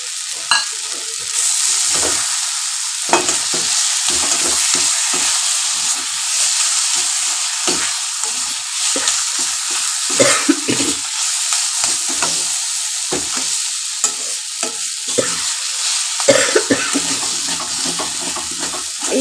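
Banana flower mixture for mochar chop, Nadia Rajbari style, stirred and fried in a pan with roasted coriander spice powder. Scraping spoon strokes repeat over a steady, loud sizzle throughout, with no talk.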